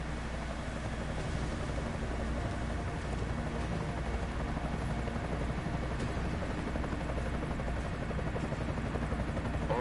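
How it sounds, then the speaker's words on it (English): Enemy helicopter in the video game Deus Ex: Mankind Divided, a steady, loud rotor drone and engine roar that holds unbroken for the whole stretch, with no talk over it. "Enemy helo sighted."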